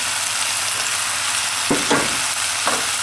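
Roughly chopped tomatoes sizzle in a hot curry pan for a Madras beef curry, a steady frying hiss with a few louder bursts of stirring near the end, close and alone without voices.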